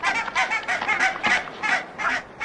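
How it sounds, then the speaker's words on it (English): Barnacle geese honk on Arctic shores, a loud nearby chorus of repeated nasal yelping calls overlapping in quick, uneven bursts with no pauses between them. "Barnacle geese have returned to the Arctic shores"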